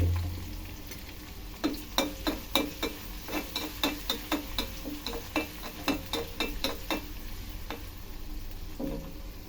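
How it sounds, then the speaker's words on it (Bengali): Onion fries lightly in a pan, a soft background sizzle punctuated by a rapid series of sharp spatula scrapes and taps against the pan, then quieter frying. "পেঁয়াজটা হালকা ভেজে নিচ্ছি।"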